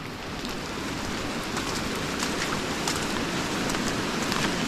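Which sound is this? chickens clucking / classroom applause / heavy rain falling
heavy rain falling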